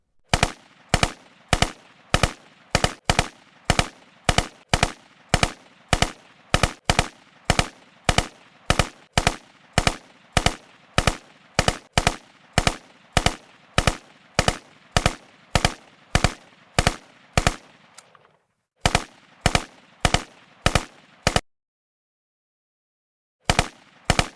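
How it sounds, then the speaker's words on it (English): Film gunfire from Thompson submachine guns at a tollgate ambush: a long run of sharp, evenly spaced loud shots, briefly faltering, then a short silence before final shots. "viciously shot to death by a few carloads of contract killers employing Thompson's sub-assault rifles"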